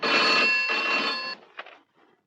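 Telephone ringing in a Hindi film scene, a loud electronic bell ring in two bursts followed by a brief click as the receiver is handled.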